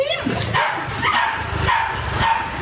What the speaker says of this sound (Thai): พี่จุ่มปิดประตูก่อนมันเห่าดังมาก